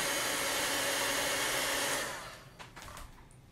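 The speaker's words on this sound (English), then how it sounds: "I'm just drying this spot because I'm going to be layering over it" A hair dryer blows steadily at close range over chalk on a chalkboard, a loud even whoosh that cuts off after about two seconds, leaving faint handling noises.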